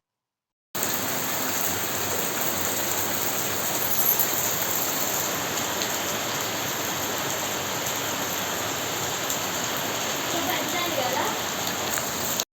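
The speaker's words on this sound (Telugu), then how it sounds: "చూసారా ఎంత పెద్ద వర్షం పడుతుందో" Heavy rain pours down in a steady, dense hiss that fills the whole stretch without a break, close and loud.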